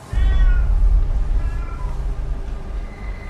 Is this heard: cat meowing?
yes